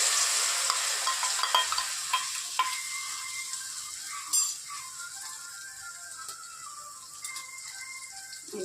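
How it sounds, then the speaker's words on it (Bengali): Battered crab gills mixed with egg, salt, turmeric and chilli sizzle and crackle in hot oil, a steady close frying hiss with scattered pops and scraping stirs. "এবার এই যে তেলে ছেড়ে দিলাম।"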